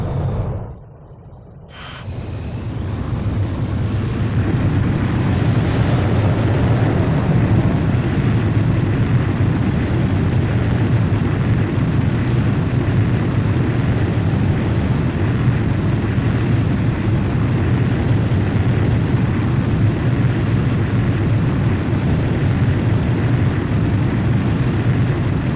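A fighter jet takes off in the Ace Combat 5 video game: a brief hush, then a rising whine that swells into a loud, sustained engine roar and rumble that carries on steadily to the end.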